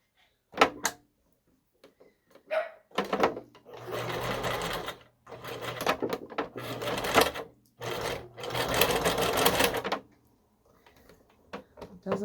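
Sewing machine stitching a homemade Wednesday Addams dog costume, running in several loud bursts of rapid mechanical whirring separated by pauses, with a faint steady hum underneath.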